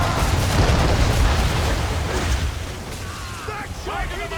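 Sailing-ship cannons firing in Assassin's Creed 3, a heavy rumbling broadside of booms that fades over a couple of seconds, followed by shouted crew orders.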